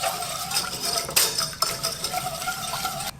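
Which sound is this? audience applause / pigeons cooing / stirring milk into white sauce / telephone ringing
stirring milk into white sauce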